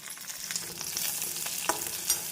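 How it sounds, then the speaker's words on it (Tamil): Curry leaves and onions frying in oil for a potato masala, a brief close crackling sizzle with a few sharp pops, no voices. "நாம் கறிவேப்பிலை சேர்த்து விடலாம்."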